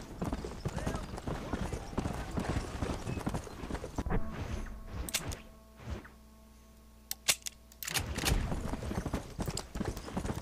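Horse hooves clip-clop steadily in the Red Dead Redemption video game, with a continuous rhythmic trot that breaks off briefly midway and then resumes. Game sounds and someone talking run over the top.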